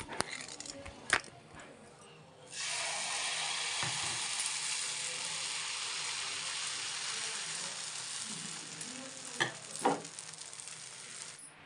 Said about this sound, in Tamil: ஸோ இப்போ வந்து நான் வந்து தோசை தான் ஃப்ரெண்ட்ஸ் ஊற்ற போகிறேன்.